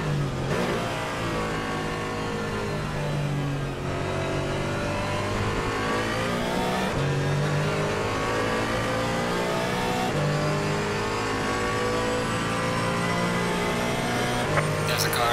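Race cars in Assetto Corsa Competizione on the Nürburgring, a multi-class endurance race, engines droning loud and continuous as a faster car closes in, revs rising and falling through gear changes, with voices talking over the engine noise throughout.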